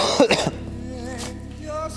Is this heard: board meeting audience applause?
no